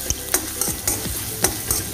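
Ginger, garlic, cinnamon, cloves and crushed fennel fry in a pan for an egg and potato masala, a close sizzle under brisk, regular stirring scrapes and knocks, with no one speaking.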